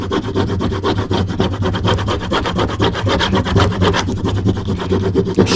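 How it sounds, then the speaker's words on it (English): A small hand scraper rubs firmly back and forth over heat transfer vinyl in quick, rhythmic, close-up strokes, loud and continuous with no talking. "I'm using my little scraper tool."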